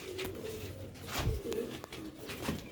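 Male Sialkoti roof pigeon cooing close by, soft low repeated coos in a loose rhythm with faint background hiss and no talk.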